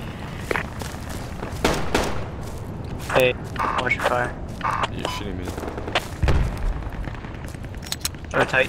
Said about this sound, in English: Oh, that's actually an enemy grenade.